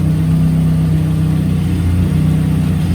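A 2007 Mazdaspeed 6 engine drones close by at a low, steady pitch as the car pulls away in first gear, with a constant mechanical hum and no obvious revving.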